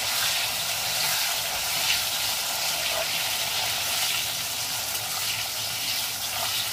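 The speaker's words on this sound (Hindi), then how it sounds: "अब जो ये कैप्सिकम हमने दिखाया था, इसको भी हम इसी में हल्का फ्राई करेंगे" Capsicum lightly frying in a pan, a steady close sizzle and crackle of oil that stays even throughout without speech.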